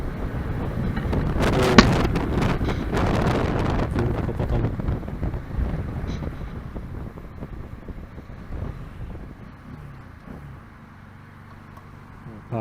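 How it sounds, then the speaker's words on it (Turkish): Strong wind roars and buffets against the microphone while riding a Bajaj Pulsar NS200 motorcycle, loudest at the start and easing off toward the end, with rumbling noise underneath. "Yalnız fena bir rüzgar var havada."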